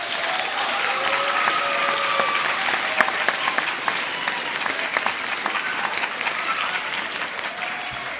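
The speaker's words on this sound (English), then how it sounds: "Parents or students, please give your parents a big applause" An audience at a school orchestra senior night claps warmly for the parents, dense sustained applause with a few whistles and louder individual claps standing out.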